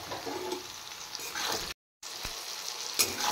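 A tomato goes into a hot pan with chillies and vegetables, giving a soft, continuous sizzle and frying crackle, quiet and close, broken by a brief silent gap and a couple of sharper clicks.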